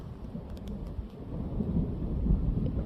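Rolling thunder from a September thunderstorm with lightning, a low continuous rumble that slowly swells louder over a few seconds, with a light rain hiss throughout and no voices.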